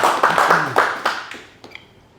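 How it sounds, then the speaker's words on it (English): Scattered audience clapping at a traditional business panel event, a handful of separate claps that thin out and fade within about two seconds. "Round of applause."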